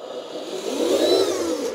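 A customized LESU RC three-way dump truck runs at high speed, its electric motor whirring in a steady, fairly loud, close whine that climbs in pitch midway, with no talk.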